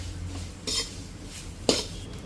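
Ingredients being sautéed in a pan, with two distinct scraping clatters of a spoon against the metal over a low steady background, close by and without voices.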